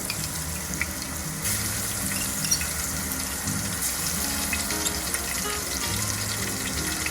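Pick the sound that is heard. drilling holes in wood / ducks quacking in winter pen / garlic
garlic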